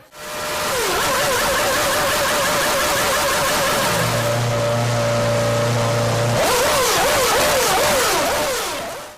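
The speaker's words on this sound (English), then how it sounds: "And Giancarlo's E-Spec RS26 engine in the traditional manner." A Renault E-Spec RS26 Formula 1 engine at a 2006 race screams through loud, sweeping revs, dips briefly to a lower steady drone, then climbs back into rapid rising and falling shrieks, with no talk heard.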